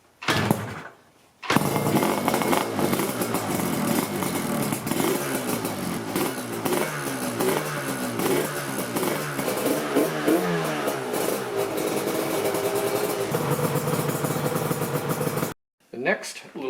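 RZ350 TZR250 hybrid two-stroke motorcycle engine firing up after a brief crank, then running loud and close with repeated sharp revs and crackling idle before cutting off.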